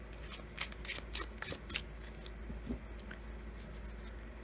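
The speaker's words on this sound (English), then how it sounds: "Let's shuffle again, and I'll do one more." Tarot cards from an indie deck being shuffled by hand, a run of soft riffling and papery slaps that comes in bursts over a steady low hum, with no talking.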